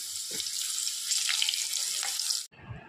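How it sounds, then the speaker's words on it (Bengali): Small potatoes frying in hot oil give a steady, close hiss and sizzle that cuts off abruptly near the end, followed by a brief low clatter. "চলো এখন আলুটাকে ভালো করে একটু ভেজে নিই, বেশি ভাজতে লাগবে না যেহেতু ছোট ছোট আলু।"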